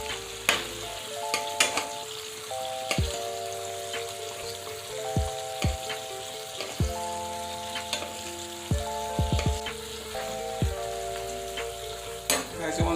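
Food frying in melted butter in a pan gives a continuous close sizzle, broken by scattered spatters and light utensil knocks throughout.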